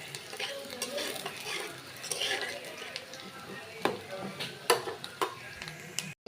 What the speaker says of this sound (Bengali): পেঁয়াজ তারপরে রসুন এগুলো সব এই ভাইজা নিব